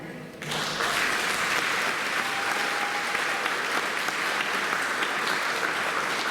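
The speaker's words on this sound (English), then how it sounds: "May the second row rise and be applauded." Audience at a PLTW lab coat ceremony applauding a rising row of honorees, steady loud clapping that starts abruptly and continues throughout.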